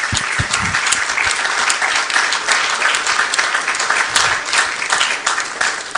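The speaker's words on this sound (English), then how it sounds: "please join me in giving a warm round of applause" An audience at a book launch breaks into sustained applause to welcome the morning's chair, dense clapping holding loud and steady throughout with no clear speech over it.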